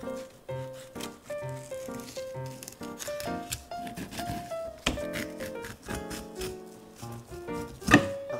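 A knife chops and slices through raw, freshly caught fish in a quick, uneven series of soft taps and scrapes, close by, with light clinks mixed in.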